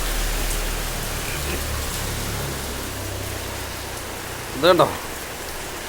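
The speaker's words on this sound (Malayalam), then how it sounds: "വീടിന് കംപ്ലീറ്റ് ഐസ് മഴയാണ്" Hail and icy rain pour steadily onto a house, a dense unbroken hiss close around, while a voice speaks briefly near the end.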